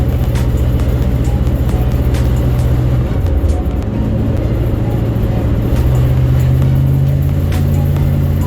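A 1962 Ford Fairlane 500 engine hums low and steady while driving, with a little bearing noise. The rumble stays loud and close, and a deeper drone swells toward the end.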